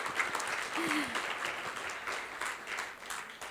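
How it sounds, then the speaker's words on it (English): Audience applause at a U.S.-Taiwan sustainability and innovation forum, a steady, moderately distant clapping that fills the whole span with a brief voice over it. "Really, give yourself a big hand of applause."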